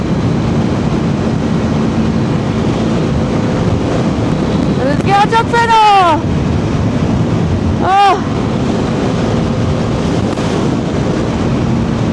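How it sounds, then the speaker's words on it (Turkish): Steady, heavy wind roar buffets the microphone throughout while riding a Honda CB250R motorcycle on a ring road, with a loud vehicle horn sounding twice partway through. "Rüzgar çok fena yalnız ya"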